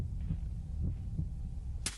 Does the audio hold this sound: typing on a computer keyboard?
no